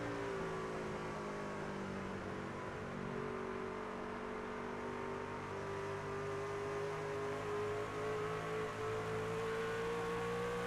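A pickup race truck laps the Gateway raceway, its engine droning steadily and loudly throughout with a sustained, slowly rising pitch and no talk over it.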